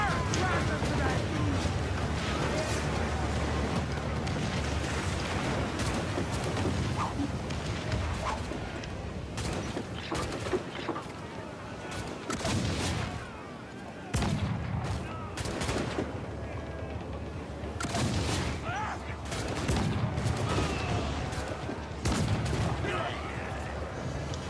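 Cannon fire and explosions during a naval battle in Assassin's Creed 4: Black Flag, repeated booming blasts and crackling volleys in irregular bursts, loud and dense, with shouted voices mixed in.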